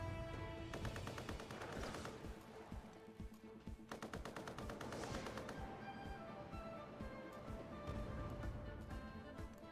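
Carpet bombing in Civilization VII multiplayer comes as faint, rapid rattling volleys of explosions, dense bursts that surge and fade over several seconds at low volume.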